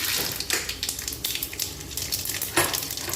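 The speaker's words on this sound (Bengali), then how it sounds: "কালো সর্ষে ফোড়ন" Black mustard seeds with a split dried red chilli sizzle loudly in hot mustard oil in a kadai, a dense continuous frying crackle with a few sharper pops, close and steady throughout.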